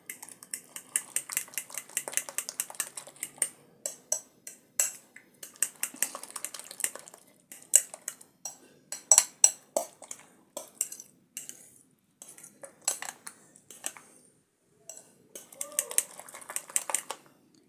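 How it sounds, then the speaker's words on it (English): Eggs are beaten in a bowl with a utensil, a quick rhythmic clinking and tapping against the bowl, close and clear, coming in bursts separated by short pauses. "I've added my eggs and I'll be able to mix it well."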